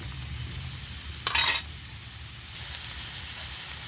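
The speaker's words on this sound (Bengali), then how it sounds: "চাল কুমড়োটা এরকমভাবে লাল করে ভেজে নিতে হবে।" Ash gourd pieces fry in oil in a pan for a Bengali vegetarian curry, giving a steady low sizzle with a sharp burst of hissing midway, likely from stirring, and no talking.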